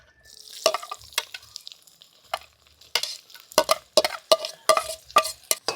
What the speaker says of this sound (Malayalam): ഇനി നമുക്ക് അരിഞ്ഞു വെച്ചേക്കുന്ന സവാളയും പച്ചമുളകും കൂടി ഇട്ട് കൊടുക്കാം